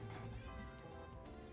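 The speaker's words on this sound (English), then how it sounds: "If you hear Honey meowing, she says hi" A house cat meows faintly in the background, a brief tonal cry in an otherwise quiet room with no talking.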